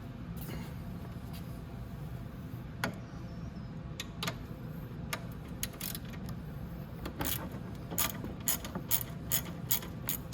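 A hand ratchet works loose 10 mm bolts on a Venom x22GT 250cc automatic motorcycle during radiator replacement, giving close, crisp clicking in irregular runs over a low background hum.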